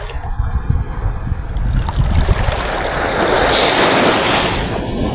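Sea waves wash in with a broad rushing swell that builds and fades, mixed with wind buffeting the microphone.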